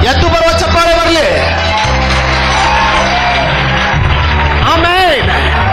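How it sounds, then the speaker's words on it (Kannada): A church congregation breaks into loud, sustained applause and cheering, with whoops and shouts rising over dense clapping throughout, close and full. "ಎದ್ದು ಬರುವ ಚಪ್ಪಾಳೆ ಬರಲಿ."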